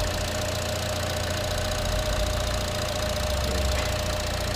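A 2014 Buick Encore's 1.4 liter turbo engine running steadily with the hood open, giving a loud, close, even hum with a low rumble and no talking.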